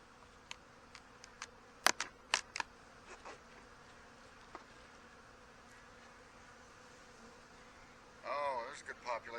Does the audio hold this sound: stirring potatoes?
no